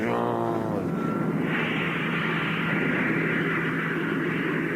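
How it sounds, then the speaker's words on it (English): A jet aircraft recorded at Heathrow, used as a radio rocket launch effect: a loud, steady roar with broadband rushing noise and a slight rising whine at the start, continuing unbroken throughout. "The jet noise, the ship taking off, was a recording of a jet aircraft down at Heathrow."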